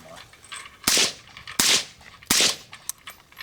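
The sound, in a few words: gunshots fired through a suppressor (can)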